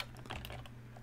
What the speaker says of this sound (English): I'm really having a hard time with the keyboard.